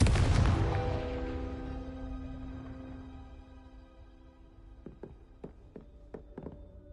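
A Confringo blasting spell in Hogwarts Legacy bursts with a loud booming explosion that rings out and slowly fades, followed by a run of sharp, rapid impact pops and taps.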